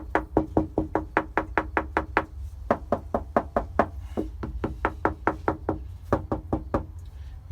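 Knuckles rap on thin car trunk sheet metal coated with sound deadener, a long run of sharp, close knocks in quick bursts with brief pauses between groups, dull and solid rather than ringing.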